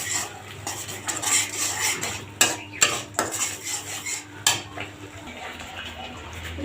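Metal spoon scrapes and clanks against a cooking pan while stirring spices and a fish head, a few sharp knocks standing out over a low sizzling bed, no talk.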